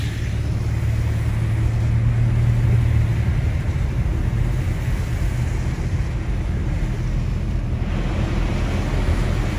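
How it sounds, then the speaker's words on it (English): Wind rushes steadily through an open car window on a snowy mountain drive in deep cold, a constant close roar with road rumble underneath and no talking. "Got my window down just to enjoy the peaceful wind blowing."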